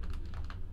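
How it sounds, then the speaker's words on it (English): Computer keyboard being typed on in a brief, close burst of soft key clicks over a steady low room hum. "Okay, I'll leave the keyboard here."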